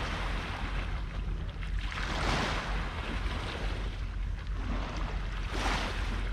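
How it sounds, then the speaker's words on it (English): Water of the River Humber washes and laps against the shore under a steady rush of wind, a continuous broad hiss with soft surges, close to the microphone. "if you can hear the water, that's what I'm listening to all night"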